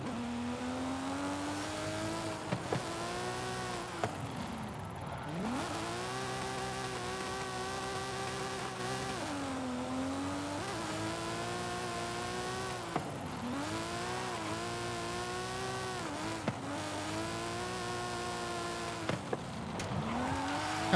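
A car engine revs hard and repeatedly while drifting in the racing game Forza, pitch climbing and dropping in long sweeping waves with brief shift breaks, loud and continuous with no talk.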